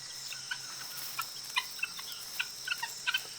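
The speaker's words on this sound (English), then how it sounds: "they live in noisy flocks, clucking to help keep the group together" Scattered short clucks from a flock of guinea fowl pop up irregularly over a steady insect-like hiss, moderately distant and not loud.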